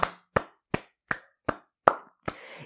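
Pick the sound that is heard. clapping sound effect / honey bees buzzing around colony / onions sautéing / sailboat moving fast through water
clapping sound effect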